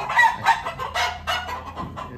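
Desi free-range hens cluck in short, rapid bursts, several birds close by, with busy overlapping calls and no voices.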